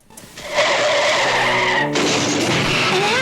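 Car tires skidding in a crash, a loud sustained screech that cuts off briefly and then resumes, heard alone with no talking.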